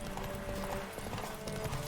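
Horse hooves clip-clopping at a steady pace in The Witcher 3: Wild Hunt, running continuously and fairly close over a low game-world rumble, with a faint whinny-like hint.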